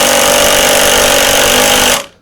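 A Festool TI15 impact driver runs continuously at high speed, sinking a 4-inch screw with a loud, dense, hammering whir that stops abruptly near the end.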